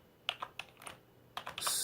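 A computer keyboard typing a command, several close, quiet keystrokes in two short bursts separated by a brief pause.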